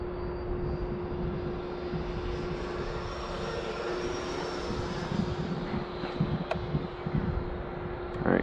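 An Eflite F-18 80mm Hornet RC jet makes a high-speed pass, its electric ducted fan giving a steady, loud whooshing whine with a sustained tone that swells slightly toward the end.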